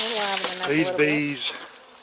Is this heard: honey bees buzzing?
yes